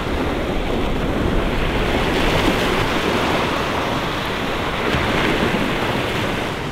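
Sea waves wash in along a cliffside shore as the tide comes in, a loud, steady surf roar with broad wash and some wind buffeting the microphone.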